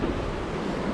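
Iguazu waterfalls in Argentina roar in the distance as a steady, broad rushing wash with wind noise, even and continuous throughout with no talking.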